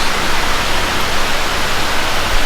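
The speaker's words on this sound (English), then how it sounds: "This is supposedly the biggest waterfall in the Inthanon Park." Wachirathan waterfall in Doi Inthanon National Park, Thailand, a loud, dense, continuous roar of falling water with no pauses or other sounds.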